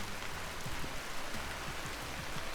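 Rain in the survival video game Vintage Story, a steady hiss of falling drops with soft low patters on surfaces, continuous and fairly quiet with no voice over it.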